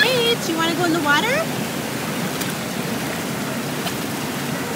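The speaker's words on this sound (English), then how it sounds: "Hanging out by the river in Boulder." A river in Boulder flows with a steady, loud broadband rush throughout, while a voice briefly speaks over it near the start.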